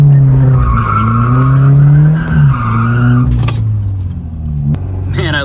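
A turbocharged Mazda Miata drifts through a corner, its tires squealing in a loud, sustained, wavering howl that shifts in pitch before breaking off, with short bursts of engine noise near the end.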